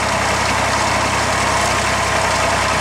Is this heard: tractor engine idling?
yes